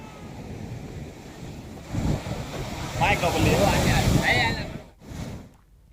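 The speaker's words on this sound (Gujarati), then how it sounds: "દ્વારકાના દરિયામાં ભારે કરંટ હોવાના કારણે આ દરિયામાં મોજા ઉછળતા જોવા મળ્યા હતા" Rough sea waves surging under a strong current off the coast at Dwarka, a broad windy wash with swells rising and falling, loud and near, with gusts buffeting the microphone.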